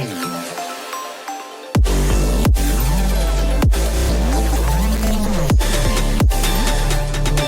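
An electronic music track moves from a sparse breakdown into a buildup, with a loud, dense full mix and heavy low end kicking in after a quiet opening, punctuated by sharp percussive hits at regular intervals.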